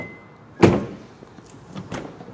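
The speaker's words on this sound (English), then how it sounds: "hit it again, it unlocks the rest of the doors" A 2009 Honda Civic's remote-activated door locks clunk with one sharp, close thump, followed by a couple of fainter mechanical clicks.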